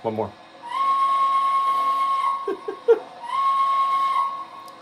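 An O gauge MTH model steam engine sounds its steam whistle in two sustained, clear blasts separated by a short pause, close and fairly loud, with a brief chuffing between them.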